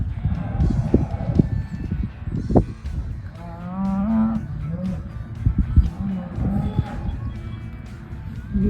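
Dairy cows moo loudly and repeatedly nearby as they are let out onto pasture, with drawn-out calls spaced among shuffling, hoof and handling noises and some brief talk.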